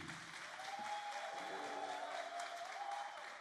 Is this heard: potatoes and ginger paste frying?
no